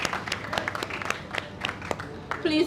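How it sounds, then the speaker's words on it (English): Audience applause at a health-worker vaccination launch ceremony, a crowd clapping steadily at moderate loudness for a few seconds, with a brief voice near the end. "Please, a round of applause."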